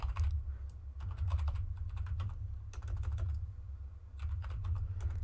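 Computer keyboard keys tapped in quick irregular bursts while typing out a short programming phrase, clear and close with brief pauses between clusters of keystrokes over a low steady hum.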